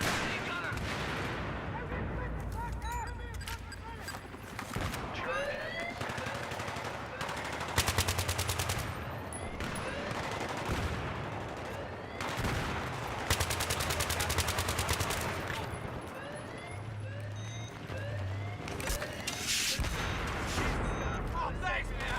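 Automatic weapon fire from a machine gunner in Battlefield 3 rattles in repeated bursts, mixed with other gunfire and blasts, while voices talk over the battle.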